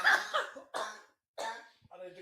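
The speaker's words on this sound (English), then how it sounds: "need to cough that whole fucking time" Several short, harsh coughs come in separate bursts with brief pauses between them, close and fairly loud, followed by a quieter throaty sound at the end.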